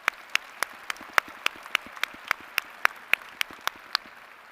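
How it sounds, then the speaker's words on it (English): Sharp, evenly spaced claps ring out at a winter university commencement ceremony, about three per second, distinct and fairly close against a quiet hall hush. "Let's give them a round of applause as well."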